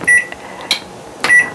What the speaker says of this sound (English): So you turn your timer on